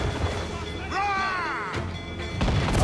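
Ship cannons fire in the Assassin's Creed IV Black Flag video game, with heavy booms and crashes rolling through a loud naval battle din, while a voice shouts over it in the middle.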